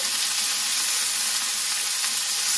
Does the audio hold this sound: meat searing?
yes